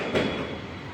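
A passing train in Kolkata city: a loud, close, continuous rumble with rolling rail noise filling the whole second, no voices.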